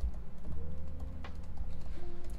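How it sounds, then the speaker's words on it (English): Quick bursts of key clicks from typing on a Mac keyboard, close and fairly loud, a rapid uneven patter over a low room hum with no talking. "if I start typing,"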